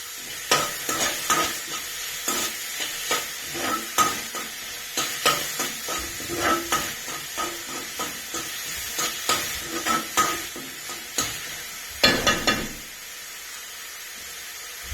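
A spoon stirs curry in a pan with repeated scraping strokes over a light sizzle, each stroke a short burst that keeps up a fairly regular rhythm, heard close without talk.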